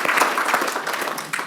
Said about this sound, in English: now you can clap hands for the speakers